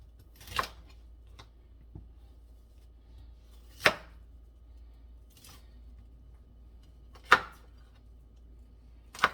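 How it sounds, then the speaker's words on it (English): A knife chops broccoli stalks on a board, giving about five crisp, separate thuds spaced a couple of seconds apart against a quiet kitchen background, with no voices. "So I'm going to chop this up."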